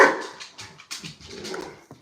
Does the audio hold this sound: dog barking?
yes